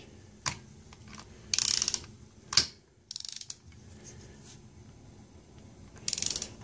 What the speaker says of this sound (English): Not much on this torque wrench